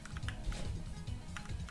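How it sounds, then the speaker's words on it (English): Rapid typing on a computer keyboard, quick irregular key clacks up close and fairly faint, with no voices. "Oh my god, Wayne Leary is typing."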